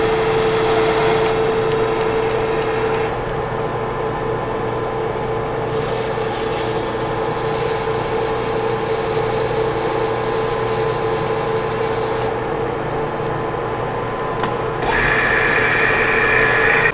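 Manual lathe cutting chamfers on a solid steel bar: a steady, loud machine hum with a high whine that shifts in pitch several times as the cut changes, continuous throughout with no talk.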